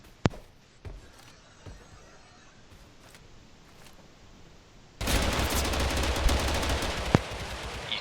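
Gunfire in the video game TABG on a mobile port, a few sparse shots at first, then a dense loud burst of rapid automatic fire with a sharp shot near the end.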